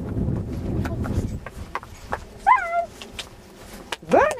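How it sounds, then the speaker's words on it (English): A large dog outdoors on a cold walk gives a couple of short, high yelping whines, one midway and one at the end, over low rumbling background noise and occasional clicks, with no talk. "Oh, look at that big dog."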